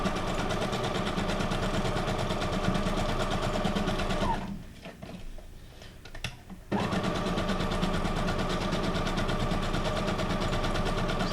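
Sewing machine stitching a junk journal card made from guest checks: a loud, continuous mechanical hum broken by a short pause for a stitch adjustment, then resuming at the same steady pace.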